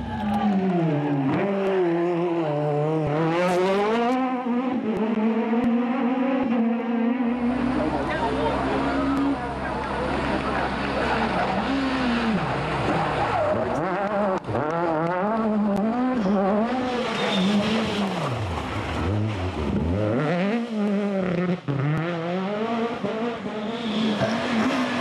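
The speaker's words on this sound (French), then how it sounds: "On fait quelques coups de frein à main pour les spectateurs." Rally car with the handbrake pulled through turns for spectators, engine revving up and down loudly with tire skid and squeal noise throughout, close and continuous.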